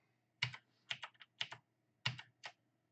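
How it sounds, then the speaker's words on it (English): Fingers type on a computer keyboard in a quiet room, tapping short, crisp keystrokes in small irregular bursts of two or three. There are brief pauses between the bursts and no voices. "as I type it in"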